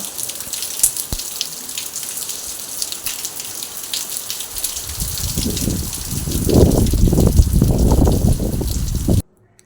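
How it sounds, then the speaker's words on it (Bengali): Heavy rain falls in a constant wash, growing louder and more splashy toward the end before it cuts off abruptly. "দেখো এই দিকটায় দেখো খুব জোরে বৃষ্টি হচ্ছে"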